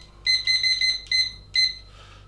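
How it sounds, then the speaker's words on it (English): A kitchen timer beeps while being set for a slow-cooked pork dish, giving a run of short, bright electronic beeps in quick bursts, then two separate beeps with pauses, close and clear. "I'm going to set a timer for 7 hours."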